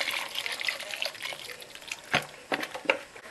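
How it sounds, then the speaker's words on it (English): Leftover water from a kettle is poured into a saucepan in a home kitchen, a faint steady trickle with a few soft splashes and drips near the end. "I'm just going to take what water I've got left in the kettle"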